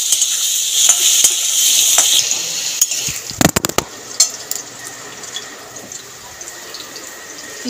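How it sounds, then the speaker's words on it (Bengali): Potatoes fry in a pan of oil with salt for a snake gourd curry, a steady bright sizzle for about two seconds, then quieter frying broken by sharp clanks and scrapes of stirring. "আলুটাকে ভেজে নেব।"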